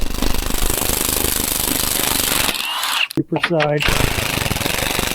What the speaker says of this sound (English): And then I got to take these cross member bolts out.